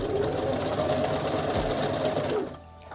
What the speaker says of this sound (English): When I reach the center point, I like to backstitch a couple times just for extra security.